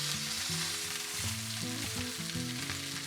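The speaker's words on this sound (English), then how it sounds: "Just check on these, make sure that they're browning, and rotate so all sides are evenly browned." Oxtail pieces brown in a hot pan with a loud, steady sizzle and crackle close by, while a low musical background plays beneath.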